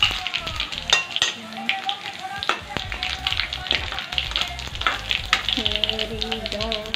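Chilli, coriander and cumin hit hot oil and sizzle close by, with sharp taps and stirring clatter from a spoon against the pan over a continuous hiss.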